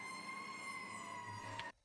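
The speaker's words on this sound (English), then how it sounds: "just the sound of the fire sirens kind of distressing" Fire engine sirens wail steadily at a distance, a sustained tonal whine over a low rumble of street noise during a protest, cutting off abruptly at the end.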